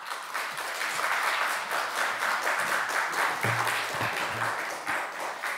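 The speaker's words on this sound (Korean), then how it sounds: "함께 나올 때에 환영의 박수 부탁드리겠습니다." A church audience at a family evening gathering gives welcoming applause, a sustained wash of many hands clapping that stays steady for the whole stretch, with a low murmur or footsteps briefly underneath.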